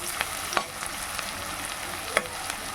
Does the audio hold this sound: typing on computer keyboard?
no